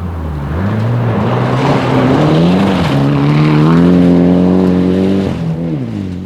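Rally car at the 2005 100 Acre Wood Rally on a fast, open stage, its engine loud and close, holding high revs with rising pitch and shifts between gears.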